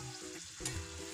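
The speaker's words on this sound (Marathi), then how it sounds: "भटुरे किंवा पुरी टाकली ना की थोडंसं तेल त्याच्यावर उडवायचं असं ह्या झाऱ्यानेच, मग तो छान फुलतो" Bhature frying in hot oil, with oil splashed over them using a slotted spoon so they puff up, giving a steady close sizzle with small bubbling pops and faint stirring.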